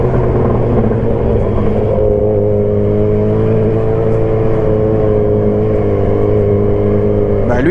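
Steady engine drone of a pearl-yellow Renault Clio RS pulling away from a green traffic light, a continuous loud tone rising slightly in pitch, with street background and no talk.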